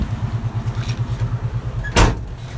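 A 1972 Chevy C10 pickup idles with a steady low rumble, then its door slams shut once near the end, a sharp loud thud over the running engine, with no voices.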